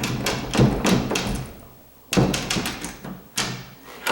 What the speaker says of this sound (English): as you close the door